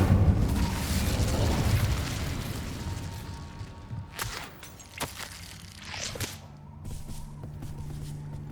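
A fire spell cast in the Hogwarts Legacy video game, a loud roaring whoosh of flame for the first couple of seconds that fades out, followed by scattered sharp cracks and pops of lesser game effects.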